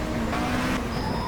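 Race car engine in a racing video game, heard from the cockpit: a steady droning engine tone with a brief surge of rougher revving in the middle, continuous throughout.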